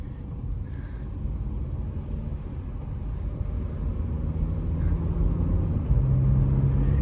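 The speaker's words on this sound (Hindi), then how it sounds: "तो देखो गाड़ी को थोड़ा सा पुल करके देखते हैं। ये अभी हमारी चल रही है इको मोड में।" A 2024 Tata Curvv diesel automatic cruising in eco mode gives a steady, low engine and road rumble from the cabin that builds gently over several seconds, with no one speaking.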